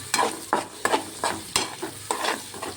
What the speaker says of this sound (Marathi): वरून कोथिंबीर सुद्धा त्यातच टाकायची आहे. तेलामध्ये फिरवून घ्यायचं आहे.